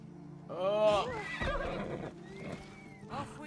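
A horse in Assassin's Creed Odyssey whinnies loudly with a rising and falling call, followed by softer snorts and a few hoof clops. The sounds are close and clear, with faint game ambience underneath.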